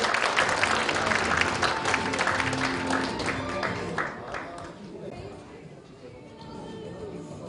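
A crowd at a Korean association's officer inauguration ceremony claps heavily at first, then the applause thins out into murmuring chatter and light background noise.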